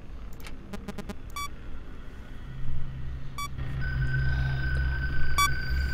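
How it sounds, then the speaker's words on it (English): Eerie electronic tones and beeps from the vent area in Five Nights at Freddy's 3, with short chirping bursts and then a low sustained hum and thin whine in the background, fairly quiet and without speech. "I think that noise means he's in a vent!"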